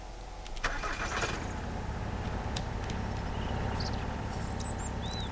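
A car engine starting in the survival game Mist Survival, a sharp crank followed by a steady low idle that runs on, close and moderate, with faint bird chirps in the background and no talk.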